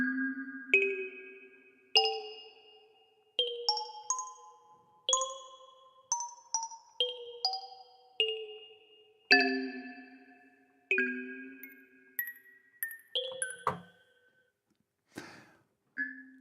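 Plucked kalimba notes from the Kalimba Keys iOS app, played as a slow melody with an echo effect; each bright, bell-like tone rings and repeats in decaying echoes, with short pauses between phrases.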